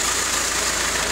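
Diesel car engine with Bosch rail pressure sensors being started for a scope meter test, heard as a steady, even running drone with no talk.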